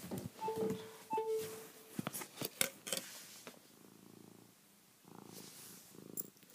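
A cat purrs close by in slow, rhythmic pulses that follow a few sharp clicks and clatter, with no voices.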